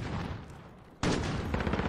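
Gunfire in the video game Call of Duty Warzone: a rapid, loud burst of shots erupts after a steady rumbling stretch of battle noise, close and dense, with no voices.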